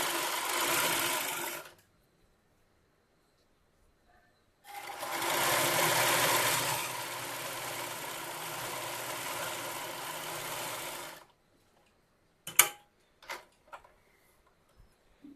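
A pico sewing machine hums steadily while stitching a fall onto a saree, in two runs, one short and one longer of about six seconds, then falls silent apart from a few sharp clicks and taps.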